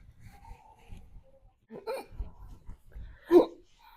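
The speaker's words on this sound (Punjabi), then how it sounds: "ਪਤਾ ਨਹੀਂ ਹਿਚਕੀ ਕਾਤੇ ਨਹੀਂ ਲੱਗੀ ਅੱਜ" A sudden, sharp hiccup stands out near the end, preceded by quieter breathy sounds and a short vocal burst; no talking.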